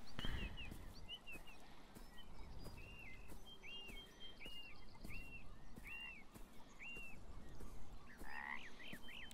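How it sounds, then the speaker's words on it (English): Frogs croak in the video game Beyond Eyes, a series of repeated rising-and-falling calls near and clear over a soft outdoor ambience with chirping birds and light footsteps. "It's a frog."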